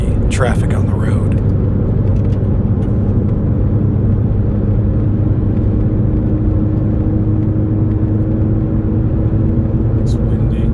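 Steady car road noise while driving uphill on the Mt. Rose Highway, a continuous low rumble and whir of tires and engine from inside the cabin, loud and unbroken throughout, with voices talking over it.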